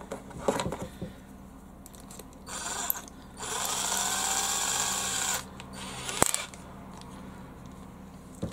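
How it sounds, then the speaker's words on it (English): A power drill whines steadily for about two seconds as it bores into material, framed by handling clicks and clatter of tools nearby. "I think I'm probably safe to use the drill now."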